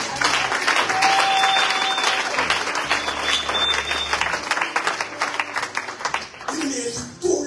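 A church congregation applauds to acclaim the Lord with sustained, dense clapping filling the room, voices mixed in throughout.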